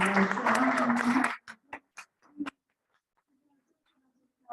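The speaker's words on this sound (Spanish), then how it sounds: "Un aplauso muy grande para" Audience applause at a Spanish-language academic talk on teaching and pedagogy: a dense burst of clapping lasting about a second, then a few scattered claps fading out into near silence.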